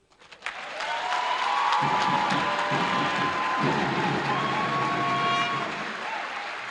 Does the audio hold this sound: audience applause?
yes